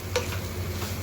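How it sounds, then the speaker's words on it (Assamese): Onion and carrot frying in a little oil for fried rice, a soft steady sizzle with a brief scrape of stirring near the start, quiet and close with no voices. "পিঁয়াজ নিমখ আৰু গাজৰখিনি ভাজি ল'লোঁ অকণমান তেল দি।"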